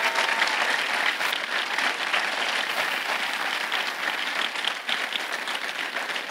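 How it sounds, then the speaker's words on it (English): Sustained audience applause after a primary school winter concert, a full, even roar of clapping hands filling the hall at steady volume from start to finish. "Could we have another round of applause for all the amazing musicians in front of us?"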